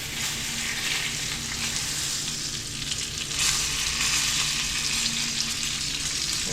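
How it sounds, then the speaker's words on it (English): Pieces of lionfish, a second batch being browned and flipped, fry in a pan with a dense, steady, fairly loud sizzle that carries on without a break. "Alright, here's the second batch of fish going in. And give these a flip."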